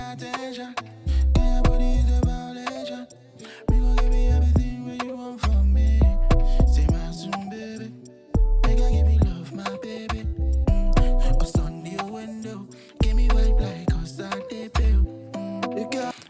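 Verse bass line of an afroswing beat: loud, deep bass notes in a syncopated, bouncing pattern with short gaps between phrases, under layered keys and percussion, with no voices.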